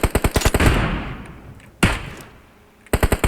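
Rapid bursts of automatic gunfire in PUBG Mobile open the clip, then a single loud shot rings out mid-way, followed by another quick burst at the end.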